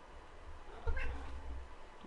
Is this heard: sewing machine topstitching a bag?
no